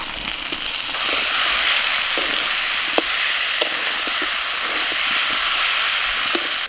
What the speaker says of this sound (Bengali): এবার খাসির মাংসটা দিয়ে দিচ্ছি।